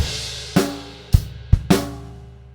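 A drum kit plays a short shuffled rock groove from a rock tune, with crash, hi-hats, snare backbeat and bass drum sounding as a few sharp, punchy hits over a soft sustained wash.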